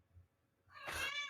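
A cat gives a single clear, short meow after a near-silent moment, fairly close and alone.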